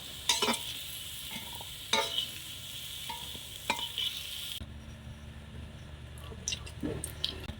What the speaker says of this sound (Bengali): চাপা দিয়ে দিয়ে আলুগুলো ভেজে নেব। আলু ভাজা হয়ে গেল